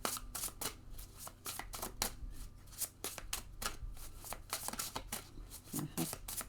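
Tarot cards are shuffled by hand in a steady, close riffling clatter of quick papery snaps that continues throughout, with a voice faintly present underneath.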